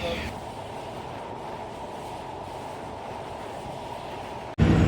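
A passenger train running across the Padma Bridge rail flyover in Bangladesh, heard from on board as a steady, loud rumble and rolling noise that continues evenly throughout, with a brief drop and louder burst near the end.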